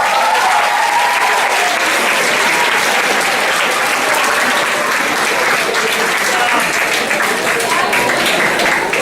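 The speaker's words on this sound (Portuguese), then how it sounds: "eu peço uma salva de palmas." Steady, full applause from a lecture audience at a school talk honoring a professor, a dense continuous wash of many hands clapping at even loudness throughout, with a voice faintly audible underneath.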